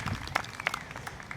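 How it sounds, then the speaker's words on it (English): Brief scattered clapping from a small audience at a town band concert, fairly quiet and thinning out, with a few sharp claps standing out. "applause for Beverly and Judy on the spoon."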